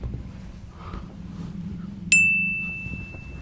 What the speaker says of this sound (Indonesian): Si HP teh nge-WA deh.